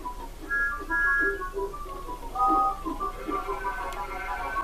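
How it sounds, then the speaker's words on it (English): Thomas the Tank Engine's high peeping whistle sounds in several short tonal bursts over a steady background hum, moderately loud and close. "Thomas is so excited for the fair, he peeps his whistle."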